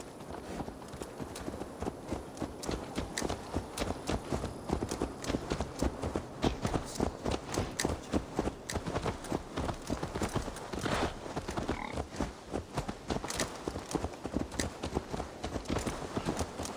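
Horse hooves clip-clop steadily and close in Assassin's Creed Valhalla, a quick regular rhythm of hoofbeats running continuously with faint game ambience behind.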